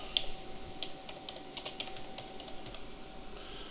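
Fingers typing on a computer keyboard at close range, a quick run of light key clicks with a few slightly louder taps, faint and steady with no voices over it.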